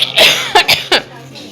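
Several harsh coughs from a woman falling ill, in a quick burst, loud and close, followed by quiet.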